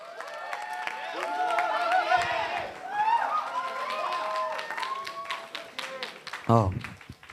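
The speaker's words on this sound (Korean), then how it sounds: "박수로 환영하겠습니다" Audience applause welcoming a speaker to the stage at a high school academic festival, clapping rising and falling through the clip with a voice talking over it and a louder burst near the end.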